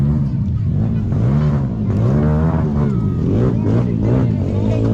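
An enduro trail motorcycle engine revs loud and close on a trail ride, its pitch rising and falling in repeated waves of throttle.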